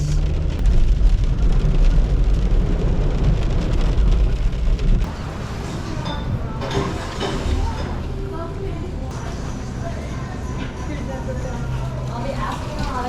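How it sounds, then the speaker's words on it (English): Heavy, nonstop rain pelts a delivery driver's car on flooding streets, a steady broadband wash over low road and engine rumble that drops a little in level partway through. "It's been raining nonstop since yesterday."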